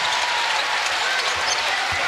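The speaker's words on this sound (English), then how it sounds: "And that gets the applause." Applause and cheering fill a college men's basketball arena in a steady wash of crowd noise, with a few low thuds beneath it.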